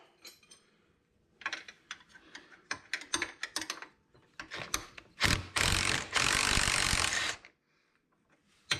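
Hand ratchet working a ball joint bolt loose on a Can-Am, heard up close as bursts of rapid clicking. The bursts stop and start, ending in one long, steady run of clicks.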